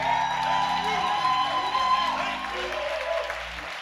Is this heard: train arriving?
no